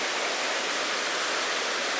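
Rapids on the Chattooga River rush in a steady, dense broadband roar of shallow water flowing over rocks, constant and close with no voices.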